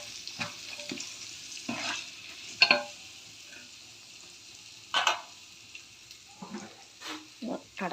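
Biryani masala with mint and coriander stirred in a pan, with a faint background sizzle and several distinct scraping strokes of a spoon against the metal.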